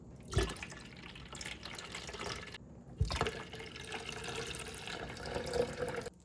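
Tap water runs into an empty evaporated milk can in two separate pours, each a splashy, gurgling fill lasting a few seconds, with a brief pause between them.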